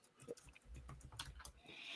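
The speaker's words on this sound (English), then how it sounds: "So I'm typing." Keys clatter in quick irregular bursts on a computer keyboard, close and moderately loud, with no voices.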